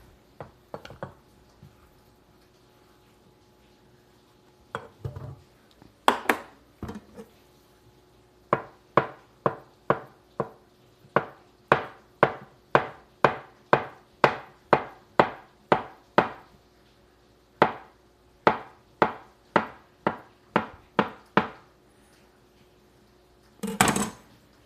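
Avocado pieces worked with a utensil in a bowl while making simple guacamole, giving a steady run of sharp knocking taps, about twenty in quick rhythm, close and fairly loud with brief pauses between bursts.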